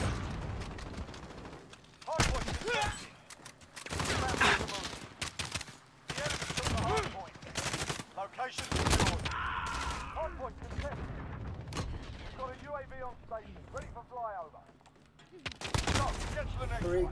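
Pistol gunfire in the video game Call of Duty Modern Warfare: a series of sharp, punchy shots in uneven bursts, mixed with other game effects and radio chatter, with a player talking over parts of it.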